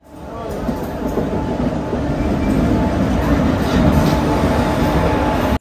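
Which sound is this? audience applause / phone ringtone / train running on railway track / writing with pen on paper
train running on railway track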